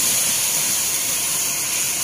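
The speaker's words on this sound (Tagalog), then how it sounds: "lagyan ko na siya ng tubig" Water pouring steadily into a cooking pot for chicken tinola, a continuous loud rushing gush with no pauses.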